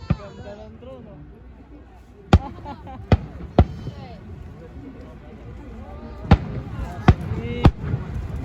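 Fireworks at a Taiwan National Day drone show go off as several sharp, loud bangs spaced irregularly over a crowd murmur, with people talking nearby throughout.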